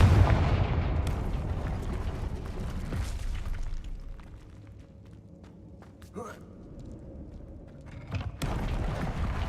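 A Confringo blast spell in Hogwarts Legacy bursts loudly at the start, then a low rumbling boom trails off, followed by quieter creaks and clicks and another sharp blast near the end, with a voice speaking over it.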